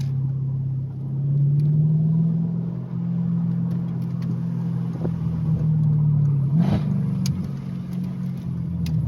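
A Mercedes SLK55 AMG (R172) engine idles with a deep, steady rumbling exhaust, its exhaust valve actuator bypassed, swelling briefly with a rev before settling back to a low drone.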